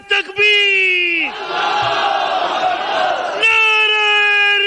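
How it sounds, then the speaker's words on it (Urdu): A crowd at a religious conference in Multan roars back a loud, sustained devotional slogan in unison, bursting in between stretches of a preacher's amplified, sung voice. "میں صبح دا بیٹھا علی دے نعرے مروینا"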